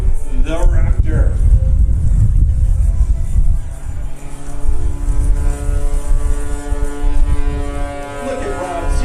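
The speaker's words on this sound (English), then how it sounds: "Look at Rob, 0 airspeed, just hanging off that rope, using all 370 horsepower from that Sky Dynamics engine." Engine of an MXS-RH aerobatic plane with a 370 hp Sky Dynamics engine at a Rhode Island airshow at Quonset, a loud, steady propeller drone with pitch sweeps as it hangs and maneuvers, under a commentator's voice.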